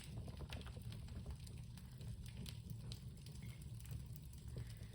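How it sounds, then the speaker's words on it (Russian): A New Year's bonfire crackles softly outdoors, with scattered faint pops and snaps over a low steady rumble of flames, no voices present. "Послушайте вообще треск костра."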